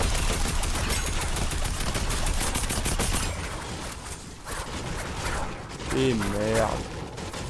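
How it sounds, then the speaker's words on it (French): Enemies fire from all sides in a Fortnite horde assault mode, dense rapid bursts of gunshots crackling loudly for several seconds before thinning out, with a voice cursing near the end. "Ils sont en train de tirer partout."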